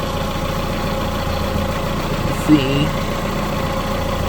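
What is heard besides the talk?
car engine idling after being revved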